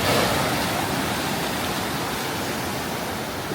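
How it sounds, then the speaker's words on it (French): Large ocean waves at Essaouira beach produce a loud, continuous broadband roar of surf washing close by, steady throughout with no voices. "Elles sont énormes, les vagues, là-bas"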